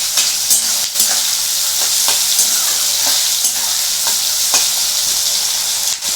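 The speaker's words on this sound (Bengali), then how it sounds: "এবার পেঁয়াজটাকে একটু আমি লাল লাল করে ভাজবো" Onions with a little sugar fry steadily in a pan until red, a loud continuous sizzle with scraping stir strokes throughout and no talk.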